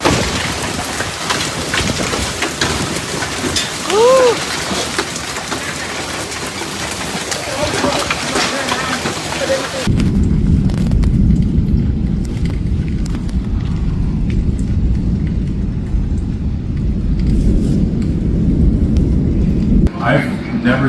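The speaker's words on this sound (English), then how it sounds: "I've never seen hail this big before." Golf ball-sized hail from a powerful storm pounds down as a dense, loud, constant roar, shifting midway to a deeper drumming on a nearby surface while people talk over it.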